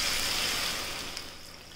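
Chickpea cooking water poured into a pan of spiced, roasted chickpeas for Amritsari pindi chole, a short soft gush and splash that tapers off as the pour slows.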